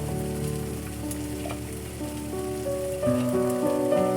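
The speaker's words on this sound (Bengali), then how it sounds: "আদা রসুনটা একটু ভাজা ভাজা হয়ে গেছে" Ginger and garlic sizzle steadily in hot oil with ground turmeric and chili powder for mutton keema, a loud, constant frying hiss with faint stirring.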